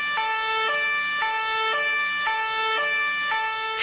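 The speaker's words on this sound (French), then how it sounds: "Maintenant, écoutez cette sirène de police." Police siren heard from inside the patrol car, a loud two-tone wail switching pitch about every half second, steady and close throughout with no talking.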